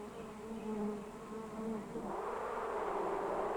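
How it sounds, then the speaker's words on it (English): Honeybees buzzing around a hive, a steady close droning hum that swells and thickens as more bees join, with no voices. "Many bees live together in a hive. They come and go all day long."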